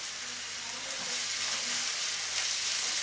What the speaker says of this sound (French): Je travaille avec l'huile d'olive. Puis une fois que je mets mes oignons.